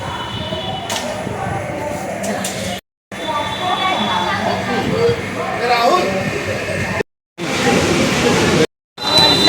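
A train rumbles past at a busy station in Maharashtra, India, a steady mechanical roar with crowd chatter and voices mixed in, cut by brief silences.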